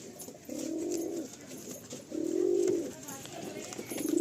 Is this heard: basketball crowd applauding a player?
no